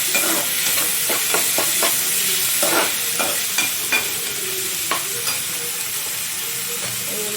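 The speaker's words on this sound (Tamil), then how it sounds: "வெங்காயம் வதங்கிடும்" Onions sizzle and sauté steadily in a hot pan, with a continuous frying hiss and repeated scraping taps of a utensil stirring them at a fairly even pace.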